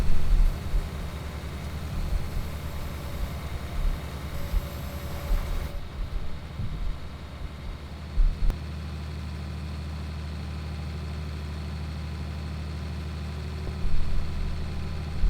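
Tractor engine driving in Farming Simulator 19 on the Felsbrunn map, a steady low diesel drone and rumble with a brief shift partway through, continuing alone without talk.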